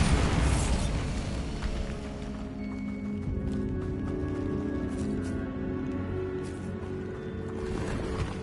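Bombarda blast spell in the Hogwarts Legacy video game: a loud booming burst at the start that decays into a long rumbling, crackling tail with lingering tonal hum, no voices over it.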